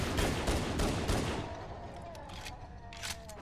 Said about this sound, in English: The MA5B assault rifle that we're using right now is part of the individual combat weapon systems manufactured by Mizria Armory.